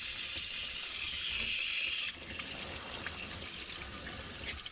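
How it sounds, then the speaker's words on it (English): Water pouring out while someone works on a Jeep YJ, a steady hissing trickle that drops to a softer flow halfway through, close by and alone. "Pretty much clean water coming out of that."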